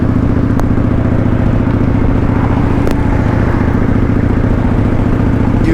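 Motorcycle ride on a freeway against the wind, a loud constant engine drone mixed with heavy wind buffeting, continuous and close throughout with no talk.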